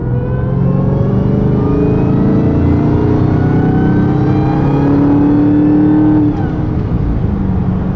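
A truck with a Hellcat intake accelerates hard, its engine roaring loudly with a rising supercharger whine climbing in pitch, then a shift or lift near the end drops the tone.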